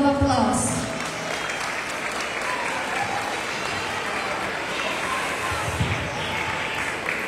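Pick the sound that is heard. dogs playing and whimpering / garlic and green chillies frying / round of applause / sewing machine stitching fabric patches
round of applause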